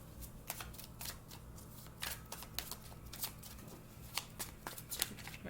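A deck of oracle cards being shuffled by hand, giving a steady run of soft riffling and flicking bursts with sharper snaps near the end, close and fairly quiet, with no talking.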